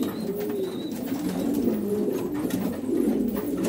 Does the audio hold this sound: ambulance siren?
no